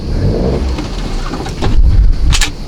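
A car engine revving in reverse while the driver backs the car into a spot on an island, a steady low rumble that swells louder in the second half with brief higher whines.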